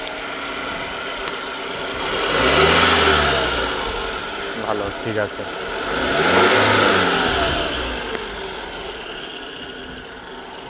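A car engine runs steadily during a quick check for a defective ignition coil, its pitch rising in two broad swells as the revs climb and fall back, with brief clicks midway and a few short spoken words over it.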